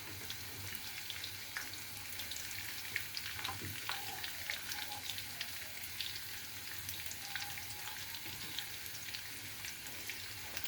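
Shashlik skewers frying gently on low heat, a soft continuous crackle and spatter of oil with occasional small pops, quiet and close, no voices.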